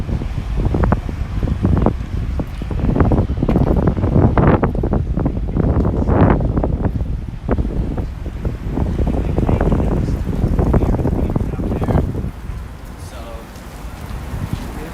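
Gusting wind buffets the microphone along a city street in Chicago's Uptown neighborhood on a spring walk, a loud, rough roar that rises and falls for the whole stretch.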